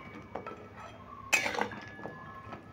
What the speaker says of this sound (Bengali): নিকুতিগুলো আমি এই রসটাতে দিয়ে দেবো। এবার একটু নেড়ে চেড়ে দেবো।